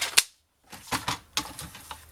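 Paper is cut for a scrapbooking folio, giving a quick series of sharp, crisp clicks and snips, close up and alone, with brief gaps between cuts.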